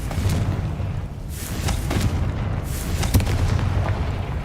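A Confringo spell blasts in a wizarding video game, with deep booming explosions and rumbling bursts, loud and close, one sharp hit standing out near the end.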